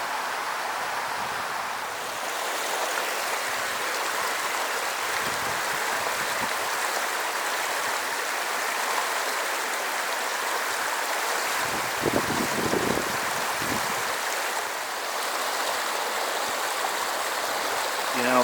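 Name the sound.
flowing creek water in a Colorado canyon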